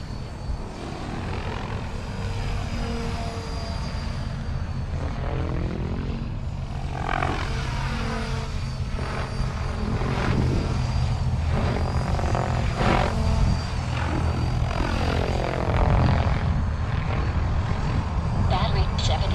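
A Freedom Piuma RC helicopter flies at low head speed, its rotor and motor giving a steady, loud drone throughout, close by and unbroken.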